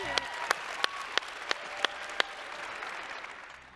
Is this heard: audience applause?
yes